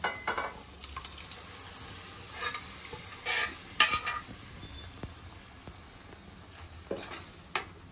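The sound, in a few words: dal poured into sizzling tadka tempering and stirred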